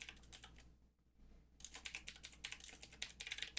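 Fingers type on a computer keyboard in quick, uneven bursts of crisp clicks, close and fairly quiet, with a brief pause before a faster run of keystrokes and no talking.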